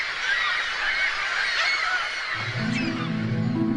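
Geese honk in flight, a quick series of harmonic, nasal calls that begin after a couple of seconds of steady background noise and carry on repeatedly, fairly close and loud.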